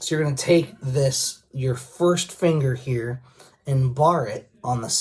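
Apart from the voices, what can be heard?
None of the usual background noises is heard.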